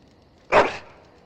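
A single close, loud bark from a dog in the video game Dragon Age: Origins, rising sharply and fading over a quiet background.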